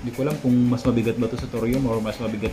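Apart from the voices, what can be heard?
No everyday noise stands out behind the speech.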